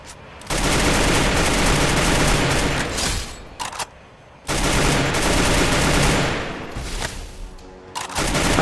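Rapid automatic gunfire in a solo-versus-squad shooter video game, two long loud bursts of dense shots separated by a short quiet gap, ending with a few scattered shots.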